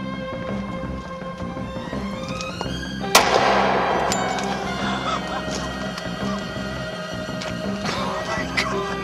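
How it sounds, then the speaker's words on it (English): A single sharp shot from a Glock pistol cracks out midway, its loud burst ringing and decaying over a busy background of steady tones. "And I am holding a Glock. And now, ladies and gentlemen, I'm going to shoot it."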